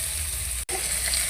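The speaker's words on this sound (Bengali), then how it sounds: "তারপর পেঁয়াজটা নাড়তে থাকবো" Chopped onions sizzle and fry in a pan while being stirred for an eggplant and potato fish curry, a steady close crackle broken by a brief scraping stir midway.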